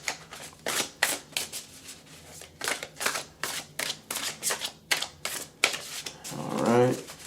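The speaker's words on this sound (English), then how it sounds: "We're going to shuffle first." Tarot cards being shuffled for a reading, a run of crisp riffling bursts repeating at a steady rhythm, close and fairly loud, with a short voiced sound near the end.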